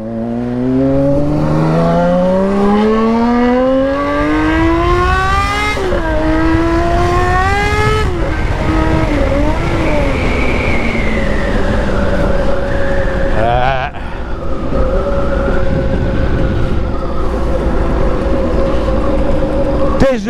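A 1980 Honda CBX 1050 six-cylinder motorcycle with an Atalla stainless 6-into-1 exhaust revs up through the gears with rising wail, then settles into a loud, steady high-pitched drone, close and continuous.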